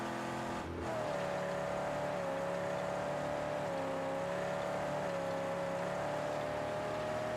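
Car engine in the post-apocalyptic driving game Mad Max, revving up then holding a steady loud drone with slight pitch wavers, close and continuous.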